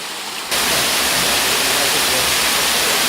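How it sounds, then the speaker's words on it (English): Cascade Falls in Maine in autumn, heard as a loud, steady, full-band rush of falling water that begins abruptly after a brief quieter moment and continues unbroken, close by, with no voices. "We just walked a bit on the Cascade Trail, and this is the Cascade Fall."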